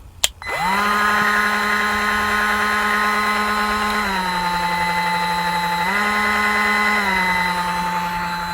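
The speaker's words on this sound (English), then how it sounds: "I'll get my Dremel on there" A Dremel rotary tool spins up after a click and whines steadily at high speed, dipping in pitch twice as it is eased or loaded, close and loud with no talk.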